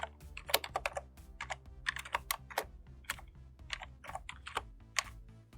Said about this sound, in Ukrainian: Введемо ім'я папки Проєкт нижнє підкреслювання сховище.